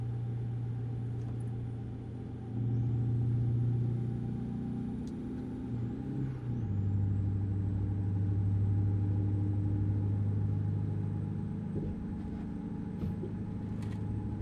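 A truck engine in American Truck Simulator cruising on a freeway: a steady low diesel drone that rises in pitch as the gears shift, with a constant rumble and no talking.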